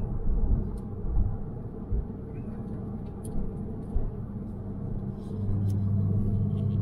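A car driving on a snowy winter road with traction control switched off, heard from inside as a continuous low road rumble with occasional bumps and a rising engine hum near the end.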